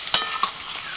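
Chopped onions dropped into hot oil in a home kitchen for a festive family meal, a brief close sizzle with a sharp clatter at the start as they hit the pan.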